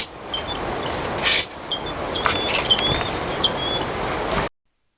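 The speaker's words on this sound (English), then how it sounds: "The common grackle's name, Quiscalia quiscula, is inspired by its sound." A common grackle gives a series of squeaky, creaky calls and sharp high whistles over a steady rushing outdoor background, fairly close and clear.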